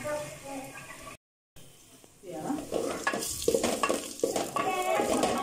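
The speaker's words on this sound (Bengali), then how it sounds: "চিংড়ি মাছটা দিয়ে দিলাম পেঁয়াজের মধ্যে, চিংড়ি মাছটাকে একটু করে ভেজে নেব আমি লবণ দিয়ে" Prawns frying with onions in a pan hiss and sizzle close by, with spoon scrapes and clatter growing busier after a brief cut to silence, and a person talking over it.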